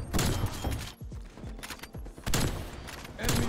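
Sniper rifle fire in Call of Duty Black Ops Cold War: loud, booming shots in a few separated clusters, each with a punchy crack and rumbling tail, mixed with game effects and little talk.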